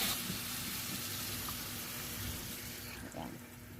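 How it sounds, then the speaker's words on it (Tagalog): Water is poured over small slices of pork in a cooking pan, a steady close rush and splash of liquid with faint sizzling underneath. "At lalagyan natin ito ng kaunting tubig."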